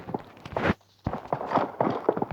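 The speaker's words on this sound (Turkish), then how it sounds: "ayak sesi var" Footsteps in the battle royale game PUBG Mobile: a quick, close run of heavy thudding steps, broken by one brief pause and then continuing steadily with no talk.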